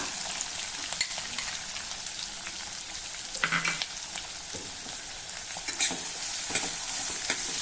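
Onion with green chilli, asafoetida and turmeric sautés over medium heat in a pan, a continuous close sizzle with occasional soft stirring scrapes and no talk.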